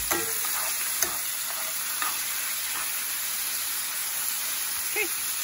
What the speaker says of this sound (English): The sound of meat frying is never a bad sound